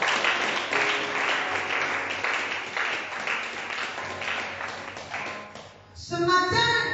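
Congregation applauding at a church service, a sustained dense clapping that holds steady for several seconds, fading slightly before a louder burst of sound at the end.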